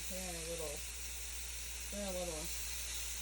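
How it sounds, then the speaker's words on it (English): Scallops sizzle in brown butter as they are flipped in the pan, a steady close hiss running throughout, with a voice briefly heard over it twice. "So I'm just going to kind of flip them over here."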